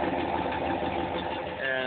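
A 1993 Dodge Dakota pickup with a 5.2-liter Magnum V8 idles with the engine cover open, a steady close rumble with a faint even pulse that runs without pause throughout.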